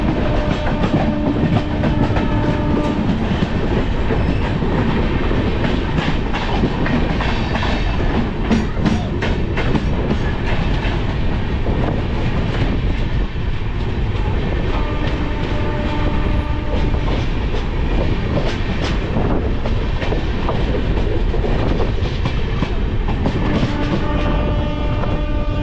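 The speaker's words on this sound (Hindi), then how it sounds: "ट्रेन जो है अभी काफ़ी स्पीड में चल रही है" The Tamilnadu Express runs at speed on its Chennai to New Delhi route, giving a loud, constant rumble with rhythmic clickety-clack from the wheels, heard close from inside the train.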